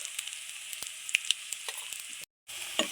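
Onion sizzles in a pan with chili powder, salt and turmeric, making a close, continuous frying hiss with small pops and stirring clicks, broken by a brief silent gap near the end.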